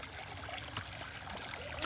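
Water trickles and splashes softly as feet are washed outdoors in a village, a faint, steady flow with no talking.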